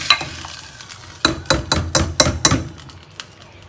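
Cumin tempering in hot oil for dal: a light sizzle opens, then a run of sharp, evenly spaced knocks and clatters of a utensil on the pan fades back into quieter frying.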